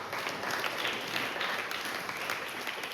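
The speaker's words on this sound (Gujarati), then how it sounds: "તાળીઓ પાડીએ આપણે." An audience claps together at a gathering for guests from Japan, a soft, even patter of many hands that holds steady for a few seconds, somewhat distant and quiet.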